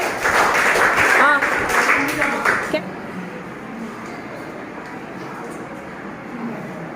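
An audience claps briefly in a busy, dense burst of applause that stops abruptly after about three seconds, leaving quiet room noise and faint voices.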